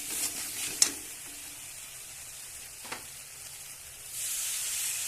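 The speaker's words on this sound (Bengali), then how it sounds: "মশলাটা ভালো করে কষিয়ে নেওয়া হয়ে গেছে" Spice paste of garam masala powder, cumin powder, turmeric and salt sautés with a quiet, hissing sizzle, broken by a couple of sharp clinks and ending in a louder burst of steady hiss.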